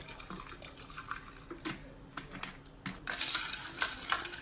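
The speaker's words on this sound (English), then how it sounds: "I actually love the sound of glass and ice cubes shaking." Ice cubes rattle and clink against a glass as a chocolate caramel milk drink is shaken, a busy run of small knocks and jingles that grows louder and denser toward the end, with no talking.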